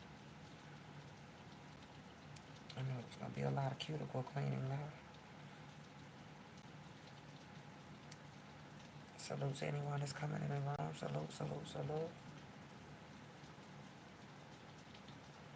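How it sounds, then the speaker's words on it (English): Rain from a thunderstorm patters steadily in the background while someone talks in two bursts over it. "I guess y'all can hear a little thunderstorm for a minute"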